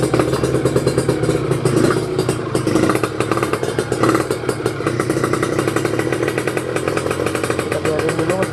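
A two-stroke motorcycle engine with a 38 PWK carburetor warming up, a steady loud raspy idle with a fast buzzing pulse and slight rev wobble, close and running alone.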